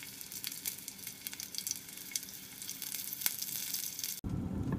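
Kalonji onion seeds and green chili spluttering in hot oil, a dense steady sizzle with scattered sharp pops and crackles, close and fairly loud, before it shifts abruptly to a duller, lower frying hiss near the end.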